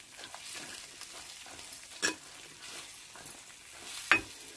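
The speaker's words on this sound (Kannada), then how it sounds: "ಈಗ ಕೈ ಆಡ್ತಾ ಇದೀನಿ" Ridge gourd and grated coconut are stirred in a frying pan over soft sizzling, with light scraping strokes and a couple of louder knocks against the pan, close and fairly quiet.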